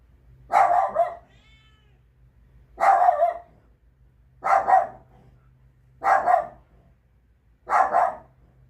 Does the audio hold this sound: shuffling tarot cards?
no